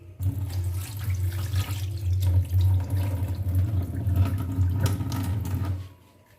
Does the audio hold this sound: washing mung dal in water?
yes